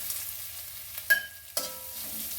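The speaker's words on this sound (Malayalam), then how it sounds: "ഇതിങ്ങനെ പാനിനകത്തിട്ട് വറുത്തുകൊണ്ടിരിക്കാം." Grated coconut roasting in a pan for a sadya-style pumpkin curry gives a soft, steady sizzle, with two brief scraping stirs standing out. No voices are heard.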